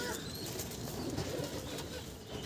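Andhra pigeons kept in a loft give faint cooing and soft wing rustles beneath a steady, noisy background hiss, with no voices.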